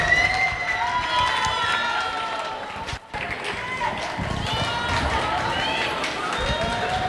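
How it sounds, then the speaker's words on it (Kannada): A studio audience cheers and claps to welcome a guest on a television show, a lively crowd roar with whoops and shouting, close and sustained apart from a brief dip. "ಅವ್ರಿಗೊಂದು ದೂರದ ಚಪ್ಪಾಳೆಯಲ್ಲಿ ಸ್ವಾಗತ ಸುಸ್ವಾಗತ"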